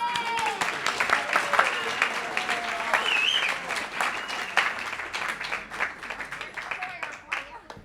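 An Alcoholics Anonymous meeting audience at a Sunday morning gathering claps for the introduced speaker, a steady patter of many hands at moderate distance with a few voices calling out over it.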